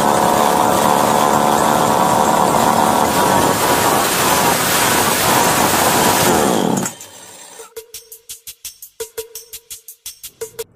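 A repaired chainsaw engine roars loud and steady for about seven seconds, then cuts out, followed by a string of sharp rhythmic clicks and pulls, likely the starter being tugged to restart it.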